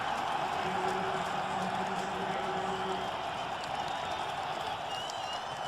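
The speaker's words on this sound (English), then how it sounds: "with all this crowd noise" Stadium crowd noise fills an NFL game between the Miami Dolphins and the New England Patriots in 2002, a dense, continuous roar with scattered cheers and clapping rising and falling throughout.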